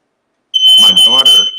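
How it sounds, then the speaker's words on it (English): A household smoke alarm, set off by salmon cooking in an oven, sounds a loud, shrill, high-pitched tone after a moment of silence, with talk mixed in around it. "she set off the smoke alarm from the oven"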